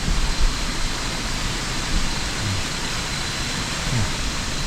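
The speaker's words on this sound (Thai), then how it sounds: "ก็จะมีนะครับน้ำตก ไหลอยู่นะด้านข้างนะครับผม" A forest waterfall beside a steep, slippery trail, heard as a steady, dense roar of rushing water at close range that holds even and unbroken throughout.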